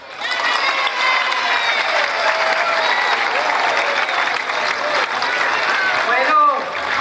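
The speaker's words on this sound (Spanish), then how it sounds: "Le damos un aplauso que se escuche, un aplauso revolucionario." A municipal council audience gives a Workers' Day speaker a lively round of applause, with scattered cheers and shouts mixed into the dense, continuous clapping.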